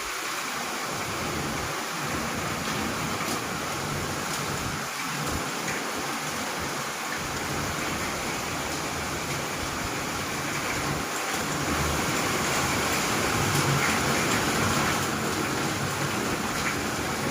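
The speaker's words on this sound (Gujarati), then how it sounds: "એટલા બધો વરસાદ પડતો છે." Heavy monsoon rain pours down outside a home in a dense, unbroken roar that stays loud and steady, with a faint low rumble underneath.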